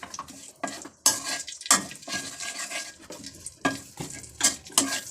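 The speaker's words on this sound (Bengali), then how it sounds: "ভালোভাবে নেড়ে নিচ্ছি।" Olive pickle mixture is stirred in a pan with repeated scraping strokes and metal clinks, each stroke a loud swish in a close, uneven rhythm.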